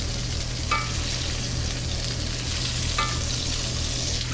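Steak sizzling loudly in a hot pan while being basted with butter, a constant close frying crackle with a steady low hum underneath and a couple of faint metallic scrapes.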